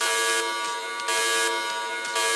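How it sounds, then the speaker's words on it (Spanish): An electronic alarm signaling a question round in a televised secondary-school math lesson: a loud, steady buzzing horn-like tone pulsing in short repeated bursts, heard alone. "¿Qué es esa alarma?"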